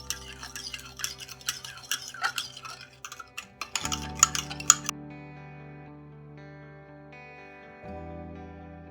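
A spoon stirs a mixture in a pot with quick, uneven scraping clinks for about five seconds, then soft sustained musical tones take over.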